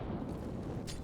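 Grenade blast in a competitive first-person shooter esports match, a dense booming explosion with heavy low rumble and a brief bright crack near the end.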